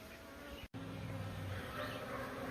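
A three-pound package of honey bees hums in a steady, close buzzing drone around a hive during installation, with one brief dropout and no voices.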